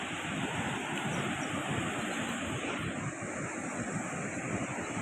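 Floodwaters of the swollen Krishna river near a temple and island, a continuous heavy roaring rush mixed with wind buffeting the microphone, loud and steady throughout.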